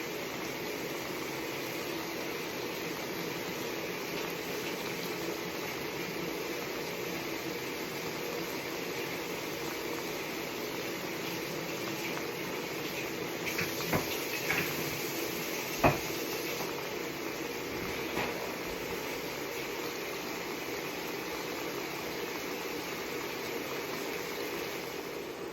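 Broccoli rabe leaves are rinsed under running water, giving a steady, faint rushing stream with a few soft knocks and splashes near the middle.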